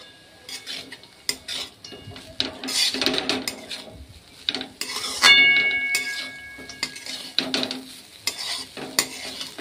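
Flattened rice pulao (chire) with ghee is stirred in a pan, a spoon scraping and clinking against the metal in irregular strokes, with a light sizzle underneath, close up and without speech.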